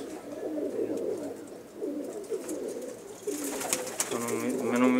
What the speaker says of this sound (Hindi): माशाल्लाह बहुत नायाब कबूतर हैं सारे इन्हों दे